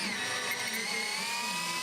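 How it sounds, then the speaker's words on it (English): A power drill bores a 25mm hole into a wooden base in a home workshop, giving a steady, continuous high whine throughout with no breaks and no speech. "I didn't have a drill bit that size, so I drilled a"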